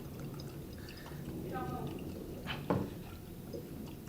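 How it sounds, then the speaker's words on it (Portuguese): Carbon dioxide gas bubbles in a glass in a respiration experiment, a soft fizzing with faint drips and one brief sharper splash, heard close under a steady background and nearby voices. "É o gás carbônico aqui que tá borbulhando"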